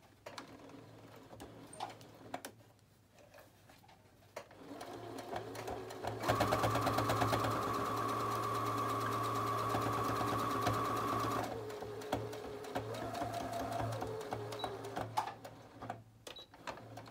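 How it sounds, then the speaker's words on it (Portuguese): A sewing machine stitches a straight seam along the edge of a fabric brush holder, a close rapid mechanical whirr lasting about five seconds, with quieter handling and short bursts before and after. "Eu vou lá na máquina e costuro. Um ponto reto."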